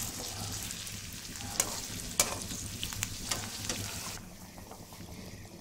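Venison pieces sizzle steadily in a hot pan while being stirred, with occasional sharp scrapes and clicks of the spoon against the pan; the frying stays close and continuous, with no voices.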